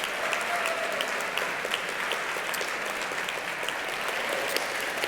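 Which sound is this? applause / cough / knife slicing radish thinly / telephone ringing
applause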